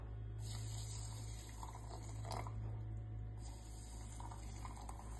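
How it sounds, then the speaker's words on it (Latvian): Hot water poured over flaxseeds and chia seeds in a bowl, a faint, steady filling sound of liquid beneath a constant low hum, with a few small splashes and no talk. "To apliejam ar karstu ūdeni."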